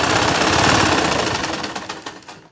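A sewing machine stitches fabric for the inner lining of a transparent bubu gown, giving a loud, steady mechanical whir that gradually eases into a rhythmic, ticking stitch toward the end.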